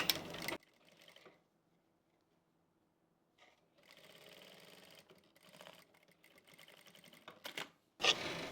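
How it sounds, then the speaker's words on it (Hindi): Sewing machine running a line of stitching along a kurti shoulder seam in bursts, with quiet pauses between runs and sharp clatters at the start and end. "अब हम इसके ऊपर से सिलाई लगा लेंगे"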